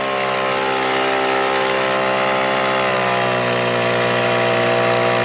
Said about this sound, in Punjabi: ਇੰਜਣ ਤੇ ਕੋਈ ਲੋਡ ਨਹੀਂ ਇੰਜਣ ਦੀ ਆਵਾਜ਼ ਤੇ ਕੋਈ ਫਰਕ ਨਹੀਂ